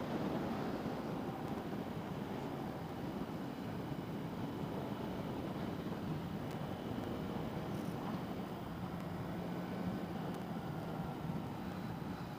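Steady, loud wind roar rushing over the rider on a 2020 Suzuki GSX-S750 motorcycle at highway speed, a continuous broadband buffet-free rush with no talk throughout.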